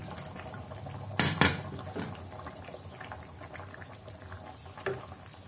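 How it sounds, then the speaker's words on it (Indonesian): Tom yam seafood soup with shrimp and tomato, bubbling in a pot, gives a soft, continuous simmer with a few louder clatters and splashes near the start. "biarkan mendidih"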